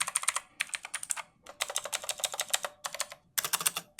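Close, rapid typing on a Wing KBG M100 mechanical keyboard with blue clicky switches: bursts of sharp, bright clacks in quick runs separated by brief pauses.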